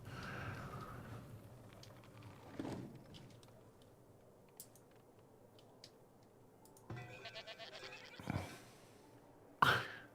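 Goats from a goat barn in the farming strategy game Farthest Frontier bleat faintly among soft ambient game sounds, with a louder, clearer bleat near the end.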